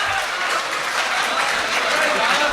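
Dense, sustained applause from a large audience at an Urdu poetry mushaira in Patna, a steady wash of many hands clapping with faint crowd voices mixed in.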